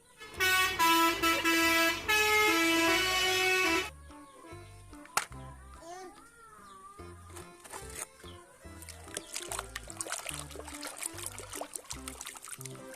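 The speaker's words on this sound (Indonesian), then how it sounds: "Mobil molen." A cement mixer truck sounds a loud, steady, multi-toned horn blast for about four seconds, followed by quieter scattered clicks, knocks and rustling.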